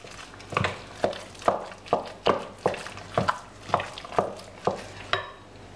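Beef and pork meatball mixture with stock being stirred in a bowl: a steady series of about a dozen soft, wet squelching strokes in an even rhythm, close and fairly quiet, with no talking.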